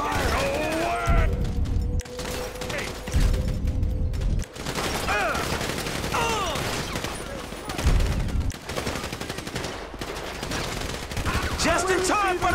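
Rapid bursts of automatic gunfire and scattered shots fill a chaotic shootout in Grand Theft Auto 5, loud and sustained with brief pauses, with a few shouted voices underneath.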